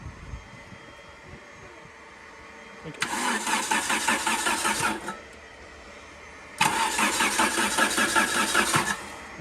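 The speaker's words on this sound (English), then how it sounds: "Sam, go ahead and crank it for like a couple seconds" A Dodge Omni engine cranks twice without catching, each burst a close, rhythmic starter whir lasting about two seconds, with a quiet pause between.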